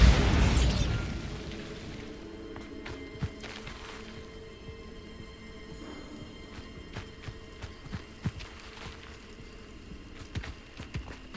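A Bombarda explosion spell goes off in the video game Hogwarts Legacy, opening with a loud, close blast and rumble, then a scatter of sharp pops, clicks and footsteps as the echo fades.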